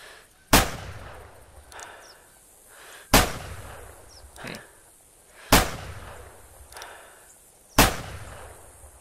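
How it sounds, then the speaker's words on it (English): Four loud, sharp shotgun blasts during a goose hunt, evenly spaced about two seconds apart, each followed by a short outdoor echo and quieter background noise between shots. "The first two shots were better."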